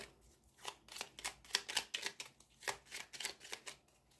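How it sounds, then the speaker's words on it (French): Tarot cards being shuffled by hand, a run of quick papery riffles and slaps in uneven bursts, close and fairly quiet with no talking. "On va mélanger pour les scorpions"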